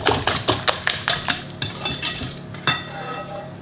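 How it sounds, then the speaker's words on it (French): A spoon or whisk works chocolate almond cake batter with liquid cream in a bowl, a steady run of rhythmic scraping strokes and knocks about two or three per second, fairly close, with no talk. "On mélange."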